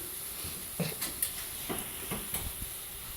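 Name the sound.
steak sizzling in hot skillet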